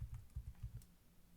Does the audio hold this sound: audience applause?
no